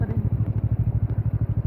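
A motorcycle engine running close by with a loud, steady low thumping pulse, rapid even beats throughout, alone without talk.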